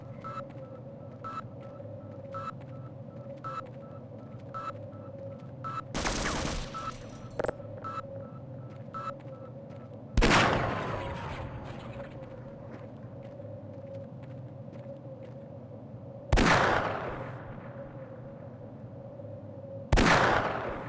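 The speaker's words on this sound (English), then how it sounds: "How did I immediately forget about that turret?" An automated turret in Half-Life firing bursts of machine-gun fire, four loud sharp blasts spaced several seconds apart over a steady electronic hum and faint repeating beeps.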